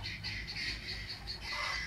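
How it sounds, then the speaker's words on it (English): Guinea fowl call in a garden with rapid, harsh, repeated chattering notes in uneven bursts, moderately distant over low background noise. "guinea fowl has gone off as well."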